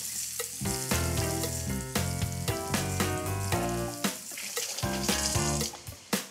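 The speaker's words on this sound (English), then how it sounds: "I'm going to saute these just 2 minutes aside" Chicken breasts wrapped in prosciutto and sage sauté in a hot pan, giving a loud, steady sizzle close by under music with a rhythmic beat and no talking.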